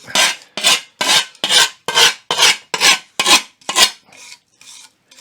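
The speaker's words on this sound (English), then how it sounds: "we are industriously sharpening tools. Or scraping rust off." Metal tools being sharpened or scraped free of rust with a file, giving nine loud, rhythmic rasping strokes followed by a few fainter ones, close by with no talking.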